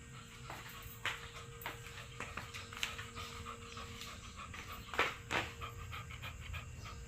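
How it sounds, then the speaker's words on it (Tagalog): A dog pants heavily indoors during rainy weather. Quick, rhythmic breaths run throughout at a close, fairly quiet level, with a few louder, harsher breaths near the end. "Hingal na hingal siya"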